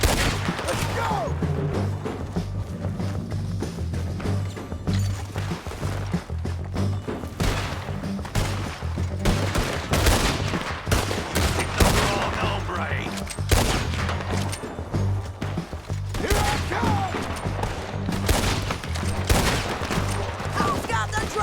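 Dense, nearly continuous gunfire rattles through a Red Dead Redemption 2 shootout, with rapid overlapping shots and heavy thuds held at a steady loud level and voices shouting beneath.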